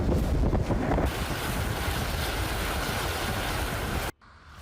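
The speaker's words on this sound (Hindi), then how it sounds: "टेक्सास जैसे कई शहरों में अब भी तेज हवाओं और बारिश का दौर जारी है" Strong hurricane winds and rain battering Texas: loud, continuous roaring wind buffeting the microphone, with rushing noise throughout that cuts off abruptly near the end, leaving a quieter lull.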